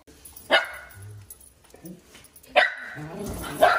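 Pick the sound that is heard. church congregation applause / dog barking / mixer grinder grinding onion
dog barking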